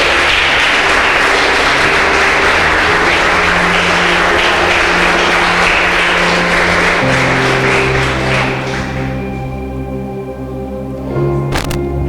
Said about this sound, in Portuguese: Se você crê nisso, aplaude bem forte o nome do Senhor.